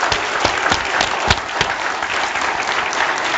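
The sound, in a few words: church congregation applauding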